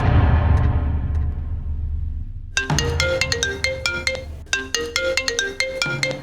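A phone ringtone plays a repeating melodic pattern of bright tones, loud and close, after a fading sound at the start.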